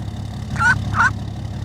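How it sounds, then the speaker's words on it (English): Two short nasal quacks from ducks in the Farming Simulator 22 farm game, each about a sixth of a second, spaced roughly a third of a second apart over a steady low hum of the game's ambient background. "that's the ducks"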